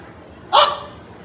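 A single short, sharp bark imitated by a voice at a school annual day function, loud and close against a quiet background.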